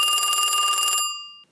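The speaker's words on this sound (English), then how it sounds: "Faintly a phone rang in a lightless cottage." A telephone rings in a dark, empty cottage on Mars: a steady electric bell trill lasts about a second, then the ringing cuts off and its tone fades away alone.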